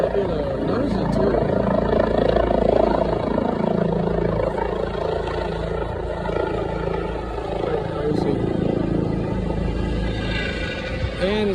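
A medical helicopter carrying a heavy load spools up its rotor RPM and lifts off, a loud, steady engine and rotor roar with a broad rumble that persists throughout at close range.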